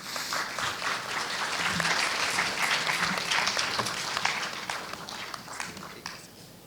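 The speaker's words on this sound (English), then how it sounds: "Please give them a round of applause" An audience at a Malaysian entrepreneurship conference welcomes a summit panel with a sustained burst of many hands clapping. The dense applause swells, holds steady, then gradually thins out near the end.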